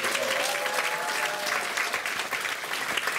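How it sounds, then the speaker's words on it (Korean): A church congregation applauds steadily at a New Year's Eve worship service, a dense, even clatter of many hands that fills the room and fades slightly at the end. "우리 또 한 해를 허락해 주신 하나님께 영광의 박수를 합니다."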